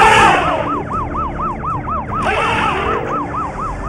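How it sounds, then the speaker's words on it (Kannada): An ambulance siren wails in a rapid, repeating up-down yelp, loud and close, as it passes an elephant procession at Chamundipuram circle, with a steady traffic rumble underneath. "ಆಂಬ್ಯುಲೆನ್ಸ್ ಹಾರನ್ನ ಕೇಳಿ ಆನೆ ಗಾಬರಿಗೊಂಡು ಒಂದು ಕಿರ್ಚಾಡ್ತು"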